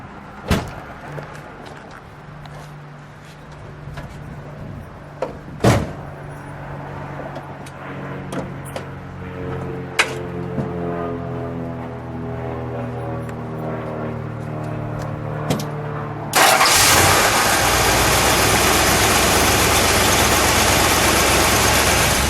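A 1970 Dodge Challenger R/T convertible with a 383 V8 and four-speed sits with a low rumble and scattered clicks and knocks. It then fires into a loud, full idle that holds steady close by.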